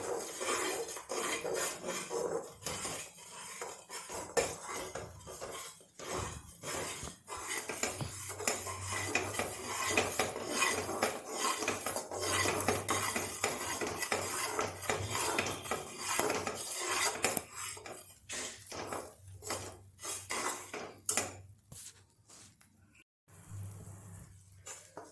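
Mysore pak mixture of oil and ghee being stirred in a pan over a low flame, a near, continuous metallic scraping and clatter of the spoon against the pan with short gaps, no talk.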